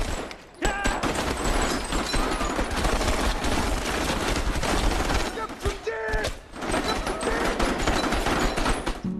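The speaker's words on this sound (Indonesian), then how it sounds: "Para pelajar menembak dengan membabi buta ke arah para tentara itu." Dense rapid gunfire rings out in a war film battle scene as students shoot at North Korean soldiers, continuous loud volleys with a couple of brief pauses and a voice heard over the shooting.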